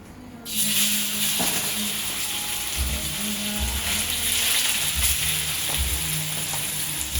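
Chicken pieces seasoned with salt and black pepper sizzle loudly in a pan, a dense steady frying hiss that begins abruptly and runs on with occasional low clunks and scrapes, no speech.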